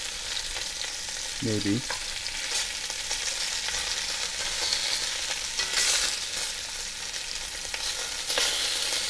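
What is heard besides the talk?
beef short ribs searing in a pan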